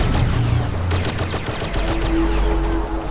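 A deployed turret firing in a shooter video game, rapid continuous bursts of gunfire close and loud, layered with other weapon shots throughout.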